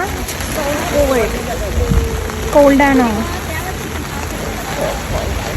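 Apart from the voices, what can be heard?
heavy rain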